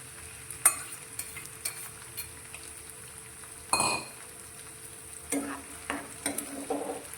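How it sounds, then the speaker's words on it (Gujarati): Tomato puree goes into a hot kadai and sizzles and fries steadily while being stirred. Sharp clinks of a spoon against the metal pan ring out now and then over the low hiss. "આપણે જે ટામેટાની પ્યુરી તૈયાર કરીને લીધી હતી તે આપણે કઢાઈમાં લઈશું"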